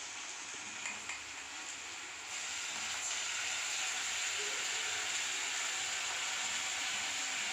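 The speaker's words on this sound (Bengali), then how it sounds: "এবার আমি আস্তে আস্তে ওতে রসুন বাটা আদা বাটা এগুলো দিয়ে দেবো" Garlic and ginger paste frying in a pan while cooking a Bengali pabda fish recipe, a steady loud hiss that rises and holds after a few seconds, with faint stirring knocks near the start.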